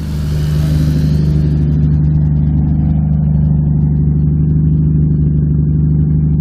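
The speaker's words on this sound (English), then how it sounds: "Car's back up and running now." Toyota Supra engine running after a fuel pump wiring fix with a rough tune, a loud, steady, deep idle rumble that settles in after a brief rise, close and alone with no voices.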